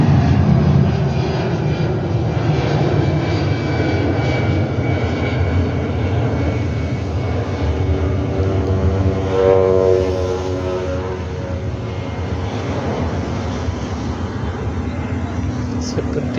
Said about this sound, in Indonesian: kelihatan pesawat sedang terbang